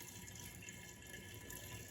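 Pear cider pours steadily from a pitcher into a brewing bottle, a continuous soft splashing liquid stream, fairly faint and without talk.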